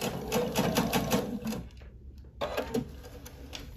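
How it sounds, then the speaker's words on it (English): A sewing machine stitches a quilt-as-you-go row on a tulip-pattern oven mitt and potholder set, its rapid rhythmic needle chatter running close and steady, pausing briefly, then resuming. "I would sew this row from this end"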